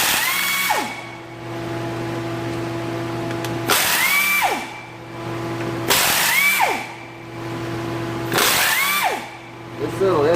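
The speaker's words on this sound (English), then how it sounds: "3/8 little air ratchet, it's got some power behind it" A 3/8-inch air ratchet backs out axle cover bolts on a 2004 Ford E150 van with an axle seal leak: four loud pneumatic bursts separated by short pauses, each ending in a falling whine.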